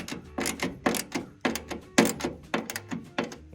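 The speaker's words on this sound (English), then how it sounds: "underneath I'm using the 3/8 socket to turn it on through like that" A 3/8 socket ratchet turning a nut on a Ford Model A gas tank gives a series of close, uneven clicks and knocks in short bursts.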